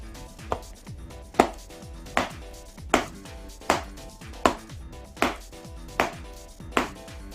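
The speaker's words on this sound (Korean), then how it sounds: "공 한번 받아보겠습니다." Repeated thuds of a baseball caught in a Switch Special Model catcher's mitt after cleaning, oiling, felt repair and full relacing, about ten catches at a steady rhythm, each a sharp pop with a low thump, heard close up.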